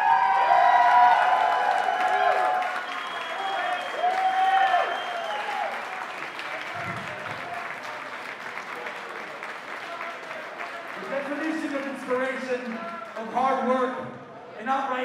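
A wrestling crowd at an indie show applauds and cheers steadily, clapping and whoops filling the room, with someone speaking over the noise into a microphone.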